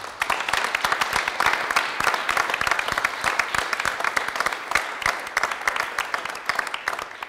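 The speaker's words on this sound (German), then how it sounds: "Und dann bitte noch mal einen Applaus für alle Menschen, die super mitgeholfen haben" Audience applause fills the room at the close of a digital society conference panel discussion, dense steady clapping from many hands lasting several seconds at even loudness.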